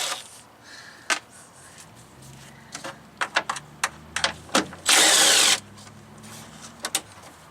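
Working on a Freightliner Cascadia, a power tool with a 10mm deep socket removes the bolts from a marker light in a run of short bursts and clicks, with one longer loud whirr in the middle.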